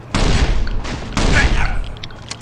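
Tank cannon fire and explosions in the survival video game Last Island of Survival, two loud booming bursts in quick succession with rumbling tails.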